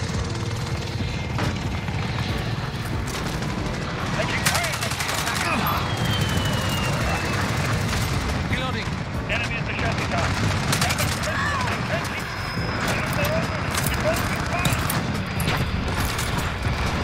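Dense gunfire from the AK-47 in Call of Duty Modern Warfare, with bursts and booms over constant game noise and a helicopter-like rumble, loud throughout.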